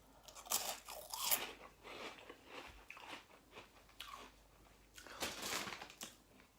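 Crunchy halloumi fries being bitten and chewed up close, with a run of crisp crunches in the first second or two and another loud burst around five seconds, quieter mouth sounds between.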